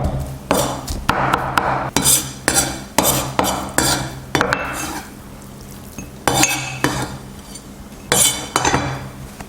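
Pork minced by hand on a board, with sharp rhythmic chopping blows in uneven bursts and brief pauses between them. The clatter rings with a metallic edge, close and loud, and there is no talk.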